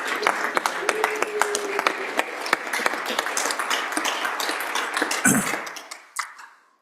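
A state Senate chamber fills with loud, sustained applause welcoming visiting students, with dense clapping that fades out near the end, followed by a few scattered claps and a brief murmur.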